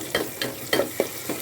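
Onions and ginger garlic paste sauté in a pan, a steady sizzle broken by five or six distinct scraping stirs of a spoon at regular intervals, close and clear with no voices.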